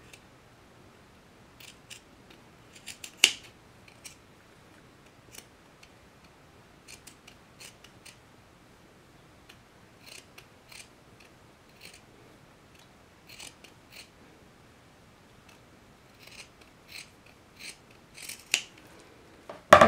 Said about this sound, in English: I'm going to cut straight up to this tick mark, which is the center of my tail, and then cut to this seam allowance.